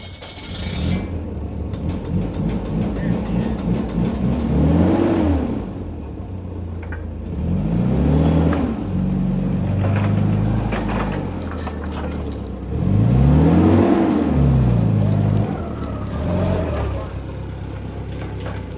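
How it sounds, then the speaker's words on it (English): Forklift engine turning over and running in a workshop, a low rumbling idle with repeated rising and falling surges of revving, close and steady throughout. "So, Paul, let's get the forklift"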